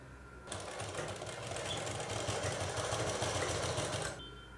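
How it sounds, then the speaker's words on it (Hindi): A sewing machine runs a continuous stitching burst for about three and a half seconds, sewing a size 38 cup into a nursing bra, close and steady with a low motor hum underneath and no speech. "अब इसके यहाँ पे सिलाई कर देंगे इधर से।"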